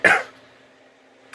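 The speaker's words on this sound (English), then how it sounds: "Sorry for the coughing and throat clearing and crazy stuff." A single sharp cough or throat clear bursts out close and loud at the start, then fades into quiet room tone with a faint hum.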